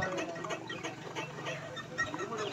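A Honda Click 125i scooter gives off a faint, thin chirping squeak like a baby chick, repeating in quick irregular peeps over a low idle rumble.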